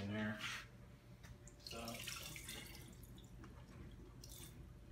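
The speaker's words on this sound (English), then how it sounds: "So I'm gonna pour this water off here," Brine water poured off goose meat into a sink, a running, dripping splash of liquid with a brief burst at the start, close by and fairly steady.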